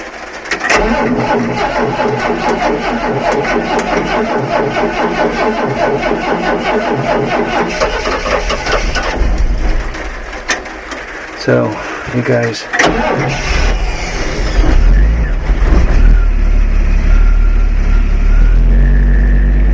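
A medium tugboat engine in a Clark tug plow cold-starts, cranks and catches, then settles into a steady rumbling idle, loud and close, with a person speaking briefly over it.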